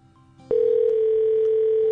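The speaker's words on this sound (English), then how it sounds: "Your call has been forwarded to an automated..." A telephone call tone sounds on a line: quiet faint background, then a sudden loud steady single-pitch tone starts and holds unbroken to the end.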